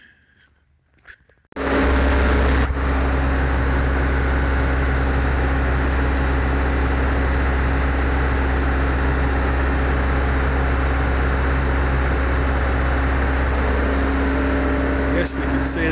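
A skid steer's engine at a farm feed barn on a cold day fires up after a brief quiet moment, then settles into a loud, steady, close-up idle rumble that holds without a break.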